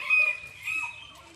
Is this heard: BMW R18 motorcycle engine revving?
no